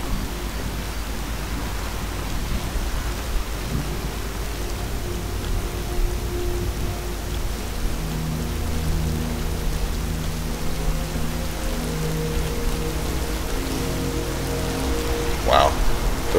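Steady rainfall in a Skyrim thunderstorm, a constant hiss of drops with low rumbling tones building underneath partway through and a brief sharp crack near the end, without speech.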